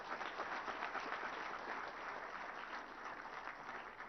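Audience applause at the launch of a state IT and electronics department's annual report, a steady, dense round of clapping filling the room for about four seconds with no talk over it.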